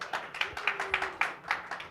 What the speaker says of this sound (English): round of applause for Thea Baldwin, by the way